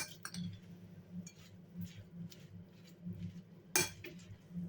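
Spoon and bowl clink softly as Chinese cabbage salad with mayonnaise and mustard is mixed, steady light scraping and stirring with one brighter knock near the end, close and fairly quiet.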